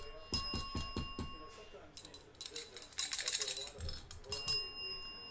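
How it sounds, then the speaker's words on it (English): A new bell rung indoors during a football card box break: several quick bright dings, then a later burst of ringing, with a person talking between strikes. "I got a new bell."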